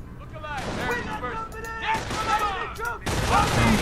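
Game gunfire and explosions from a Company of Heroes battle at Carentan in Normandy, loud bursts and booms running under radio-style voice lines and chatter, with a heavier blast near the end.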